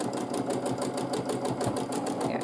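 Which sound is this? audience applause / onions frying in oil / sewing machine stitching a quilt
sewing machine stitching a quilt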